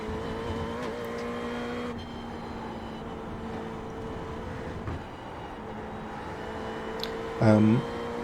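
A Ferrari 488 GT3 running at full race pace at Watkins Glen in iRacing, with a steady, sustained engine drone holding high revs and brief shifts in pitch, a short louder burst near the end.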